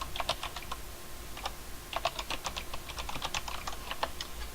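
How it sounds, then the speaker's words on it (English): Faint typing on a computer keyboard, including backspace and enter presses, runs as quick irregular clusters of light key clicks with short pauses, close and alone without speech. "Let's backspace out of there and hit enter"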